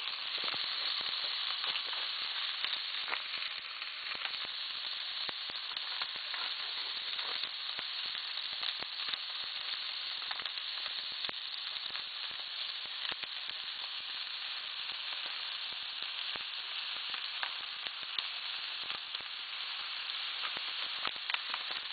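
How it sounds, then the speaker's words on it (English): Onion sizzling and frying in a pan while being stirred, a steady bright crackle running continuously with occasional stirring scrapes and no talk over it. "now basically I'm just mixing the onion in there"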